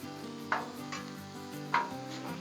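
Chicken bites sizzling on a Blackstone griddle, with two sharp scraping stirs of a spatula against the flat-top over a steady, moderately quiet fry hiss.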